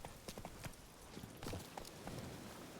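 Roach the horse in The Witcher 3 on Skellige, hooves clip-clopping in a steady trotting rhythm over ambient background noise, close and moderately loud.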